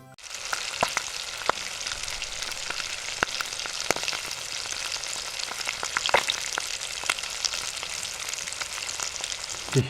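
Fish fries over a low flame in hot oil with curry leaves, a dense, steady sizzle with scattered sharp pops and crackles, close and alone without any talk.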